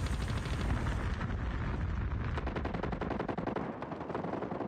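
Rapid automatic gunfire from the mobile game Call of Duty Mobile, a loud burst of closely spaced shots that grows into a fast, even rattle of individual cracks, with no talk.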